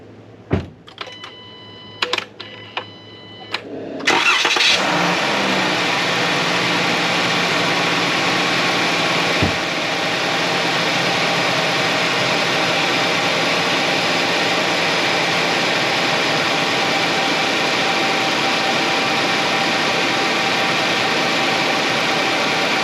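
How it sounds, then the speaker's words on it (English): A car engine cranks and catches after several seconds of clicks and chimes, then settles into a steady, loud idle that continues unchanged to the end. "we'll do an engine start"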